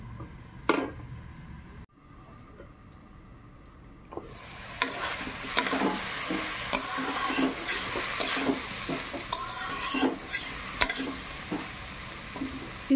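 Red amaranth greens are sautéed with taro and shrimp, salt added. A quiet start with a few clicks swells into a loud, steady close sizzle with stirring scrapes, and no one talks.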